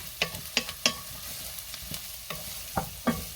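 Sausage and garlic get stirred in a sizzling pot for a parmesan sausage soup, with about eight sharp scraping strokes of the spoon over a soft, steady frying hiss.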